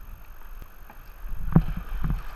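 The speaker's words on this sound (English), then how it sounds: "Keep paddling." Kayak paddle strokes on moving river current while learning to kayak, with two or three splashy strokes growing louder toward the end over low rushing water and wind.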